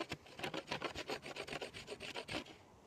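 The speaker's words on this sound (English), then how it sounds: "you're going to start doing more of the scraping part instead of the hitting" A blade scrapes rapidly and rhythmically along wood while shaping a survival bow, a steady close rasping stroke repeated many times without pause.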